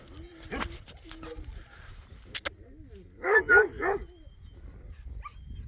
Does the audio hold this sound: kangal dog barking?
yes